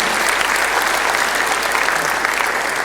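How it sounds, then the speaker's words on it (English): Attendees at an annual town hall meeting on security with the Governor give a big round of applause, a thick, even wash of clapping from a large crowd lasting about three seconds. "Please, let's give them a big round of applause again."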